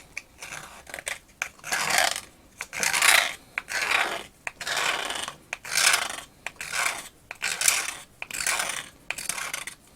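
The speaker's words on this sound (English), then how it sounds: "I will use my ruler to scratch along the edge until I've got a reasonable selection of these" A ruler edge scrapes along a 2mm styrene plastic sheet in repeated rasping strokes, about a dozen rhythmic passes, each a bright scratchy burst with short pauses between, close and clear.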